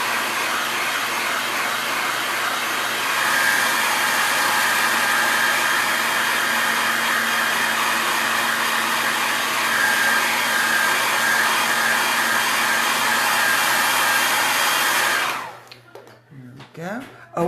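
A hair dryer blows steadily and loudly for about fifteen seconds, drying a chalk transfer used on Christmas decor, then cuts off abruptly, leaving brief quiet handling sounds.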